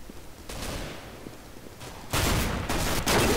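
Gunfire in the video game CS:GO Arms Race, a loud sustained burst of rapid automatic shots that swells into a heavier barrage toward the end.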